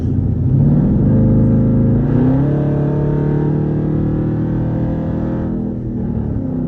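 Straight-piped Jeep exhaust rumbling steadily and loud while driving, with a throaty low drone that swells and shifts as the engine revs change, heard from inside with no talking.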